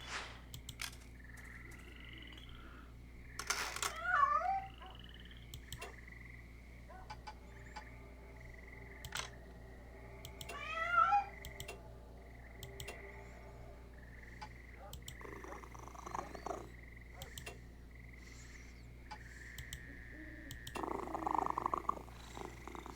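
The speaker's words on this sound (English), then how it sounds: "A cat. It appears to be beckoning you thither." A cat in the video game On the Rain-Slick Precipice of Darkness Episode One purrs steadily over a low hum, with a few short meows rising clearly above it and no talking.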